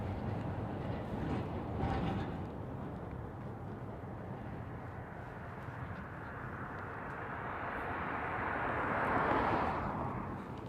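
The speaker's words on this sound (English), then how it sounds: "That sounds like a train." A train passes at a distance on a cold evening outdoors in Stockbridge, Georgia, a broad rumbling roar that swells gradually and peaks near the end, with no talking over it.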